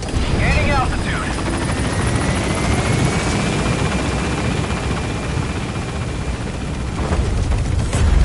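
Helicopter lifting off and gaining altitude in Metal Gear Solid V: a loud, steady rotor roar with a low thumping rumble fills the whole stretch, with faint radio-style voice chatter under it.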